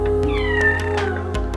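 A friendly kitten in Misfat, an old mountain village of date farmers in Oman, gives several short, high, close meows in quick succession.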